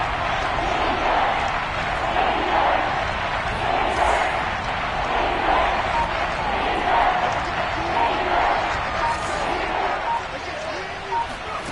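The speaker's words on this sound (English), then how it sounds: "Here comes a big one as this crowd gets up making some noise." Football stadium crowd rising to make noise before a big third-and-short play, a continuous loud roar and babble from many voices, with a commentator talking over it.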